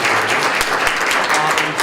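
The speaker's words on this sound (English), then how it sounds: "Just a big round of applause for everyone on" An audience at a student panel event applauds in a steady, dense wash of clapping that fills the whole short stretch without a break.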